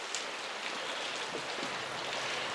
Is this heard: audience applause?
no